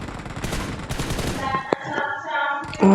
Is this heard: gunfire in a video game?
yes